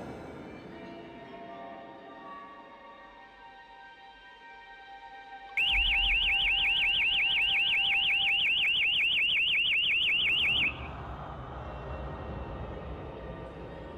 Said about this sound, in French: déclenchant non seulement la curiosité, mais aussi l'alarme de détection de mouvement du site